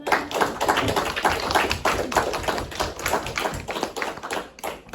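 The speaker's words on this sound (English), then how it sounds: "Let's give him a round of applause for that." A classroom audience gives a round of applause, dense overlapping claps sustained at a steady level for several seconds with no talking over it.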